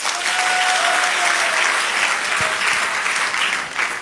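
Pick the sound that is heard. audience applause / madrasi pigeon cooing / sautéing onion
audience applause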